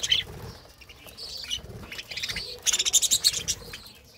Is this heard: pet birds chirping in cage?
yes